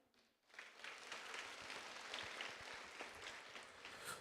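Audience clapping after a panel session at an urban forum in Lviv, a steady, fairly faint wash of applause from a crowd that holds for a few seconds without talk.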